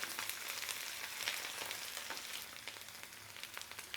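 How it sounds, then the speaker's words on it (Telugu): Chopped onion, green chili, garlic and grated ginger fry in hot oil with a steady, close crackling sizzle and faint stirring, no voices. "సన్నగా కట్ చేసుకున్న ఆనియన్, పచ్చిమిర్చి, వెల్లుల్లి, అలాగే సన్నగా తురుముకున్న అల్లం వేసి బాగా వేపాలి."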